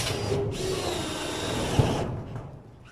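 A cordless drill whirs steadily for about two seconds, driving a metal screw, then winds down to quiet.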